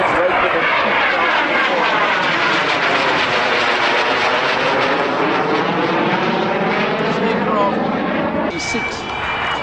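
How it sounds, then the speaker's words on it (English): Jet aircraft powered by a Rolls-Royce Viper 20 Mark 540 turbojet at an airshow, a loud continuous roar with a sweeping pitch as it passes, steady and close, with a commentator's voice under it. "Powered by a Rolls-Royce Viper 20 Mark 540 turbojet engine"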